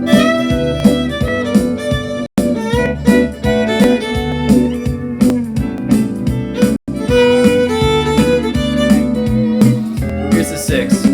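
Country fiddle playing the sixth over each chord, bowed melodic lines above a chordal backing, steady and close with two brief pauses.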